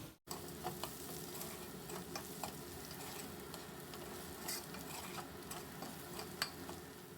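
Fried bitter gourd is stirred with a spoonful of coriander powder in a pan: a faint, steady sizzle with light, scattered scraping ticks from the spoon.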